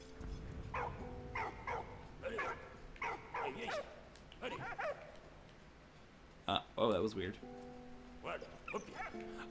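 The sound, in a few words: dog barking in the video game Valiant Hearts: The Great War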